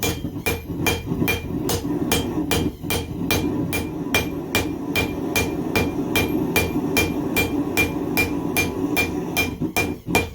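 Hammer forging steel on an anvil, a loud close series of regular ringing strikes with brief pauses between bursts, over a roaring background of the lit forge.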